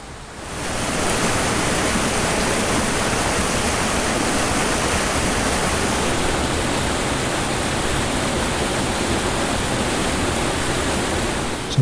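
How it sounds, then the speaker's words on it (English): The East Fork of the Pigeon River rushes steadily over rocks at a trail crossing, a loud, continuous broadband wash of flowing water close by with no voices. "We just did a water crossing at the East Fork of the Pigeon River."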